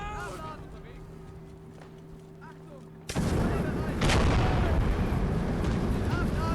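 An artillery gun in Call to Arms - Gates of Hell: Ostfront fires on infantry at an airfield; quiet battlefield ambience with someone talking gives way to sudden loud, sustained gunfire and blasts.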